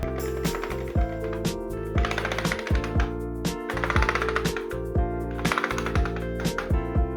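Atari XEGS game system keyboard keys tested in the self-test mode, giving a series of sharp electronic beeps and clicks with steady sustained tones between, repeated in bursts with no talk.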